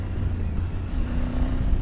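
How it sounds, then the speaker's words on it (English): A Triumph Tiger 900 Rally Pro motorcycle engine gives a close, loud, gruff low hum with a steady throbbing tone under rushing wind noise while riding. "Engine character. Very grunty."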